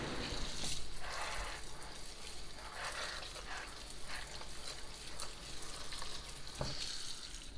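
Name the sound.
washing apricots in water with baking soda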